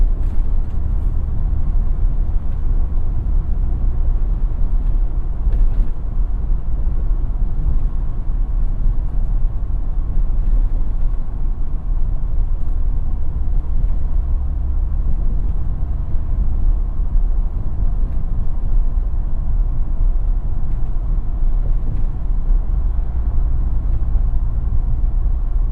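Steady cabin drone of a 2017 Ford F-150 Raptor pickup on BFGoodrich KO2 tires driving on a road: continuous low engine and tire rumble, even and unbroken, with no talk.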